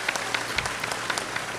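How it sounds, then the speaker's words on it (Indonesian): Audience applause at a religious talk, honouring the Real Food company, with sparse, scattered claps over a light crowd murmur, moderately loud and brief. "Tepuk tangan untuk Real Food."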